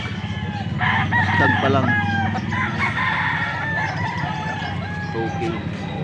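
A young gamecock (stag) crows loudly and close by in a long, drawn-out call, with a second crow following, while people talk nearby.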